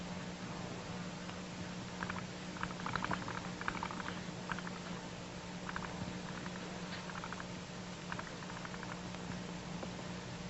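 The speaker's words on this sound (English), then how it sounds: "Oh, blowing lots of little bubbles." Soft, continuous bubbling of air blown through a pipe into water, with small irregular pops and gurgles over a low steady hum, quiet and close.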